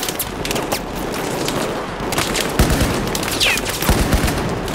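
Weapon fire in the video game Battlefield 4, a dense fusillade of sharp gunshots with several louder close cracks standing out over a steady wash of battle noise.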